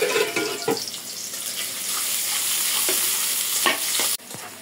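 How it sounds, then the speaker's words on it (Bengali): Onions frying in hot oil in a heated kadai for a spicy river silon fish curry with eggplant and potato: a steady close sizzling hiss throughout, broken by a few sharp stirring scrapes and clacks near the end. "পেঁয়াজ দিয়ে দেবো, তেল গরম হয়ে গেছে।"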